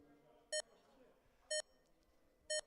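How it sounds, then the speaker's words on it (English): Three short electronic race start beeps at even one-second intervals, each a clear tone with harmonics over a low background murmur. "All right, here come the beeps."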